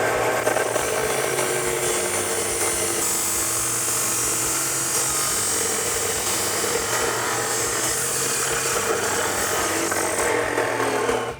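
A power tool cuts through Jeep Wrangler JL 3.6L Flowmaster American Thunder cat-back exhaust piping with a continuous loud high-pitched grinding whine over a low hum.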